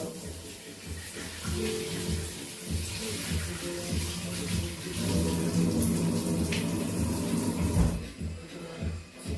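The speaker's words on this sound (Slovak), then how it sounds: "To mäso musím umyť, je nejaké divné." Tap water runs steadily into a kitchen sink while raw meat is rinsed under it, a continuous close hiss with shifting splashes as the flow hits the meat, ending in handling clatter.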